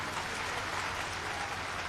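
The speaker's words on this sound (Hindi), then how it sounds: "ताली बजा के उनका स्वागत किया" Broad, steady applause from a rally audience welcoming Jyotiraditya Scindia at a Shivraj Singh Chouhan event, a dense even patter of clapping with no voices over it.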